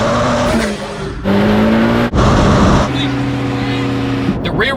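A 1,250-horsepower Chevrolet Corvette ZR1X engine under way, loud and sustained with rising and falling pitch as it pulls, a brief break midway, and a person talking over it.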